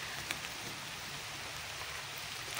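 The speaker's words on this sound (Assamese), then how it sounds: "বৰষুণ ডাঙৰ হৈ আহি আছে" Heavy rain falls outdoors in a steady, dense hiss with no breaks, close and even throughout, with no voices.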